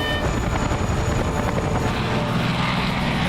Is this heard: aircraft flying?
yes